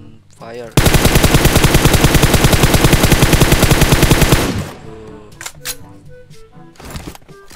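Rapid automatic gunfire from the mobile battle royale game PUBG Mobile, a loud sustained burst lasting several seconds, followed by scattered softer in-game clicks, shots and movement sounds.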